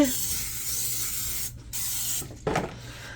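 A steady hiss from an aerosol butter-flavor cooking spray sprayed into a crockpot runs for a few seconds, with two brief pauses before a final short burst, nearby.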